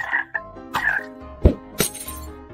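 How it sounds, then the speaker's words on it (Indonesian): Frog croaks from a Minecraft animation, several short, loud, pitched croaks spaced irregularly with a sharp clinking hit in between, heard alone without talk. "Dasar kodok nakal."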